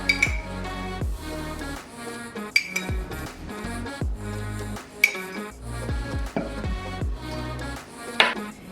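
Heaping teaspoons of Nescafe instant coffee go into glasses for a Greek frappe, with a series of bright metallic clinks of spoon on glass and soft scoops between them, close and distinct over a faint background hum.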